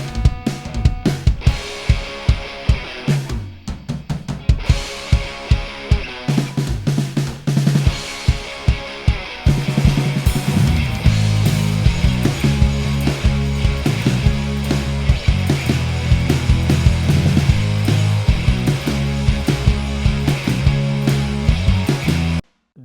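A punchy drum kit plays within a music mix, with sharp isolated hits at first, then a full, steady groove of kick, snare and cymbals driving loudly alongside other instruments before stopping abruptly.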